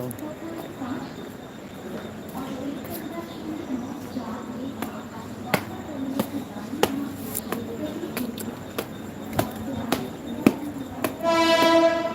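A local commuter train rumbles along with repeated sharp clicks of wheels on rail joints, and a loud horn sounds near the end; people talk faintly inside the carriage.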